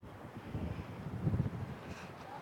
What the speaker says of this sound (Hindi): आज बहुत और तेज हवा चल गई है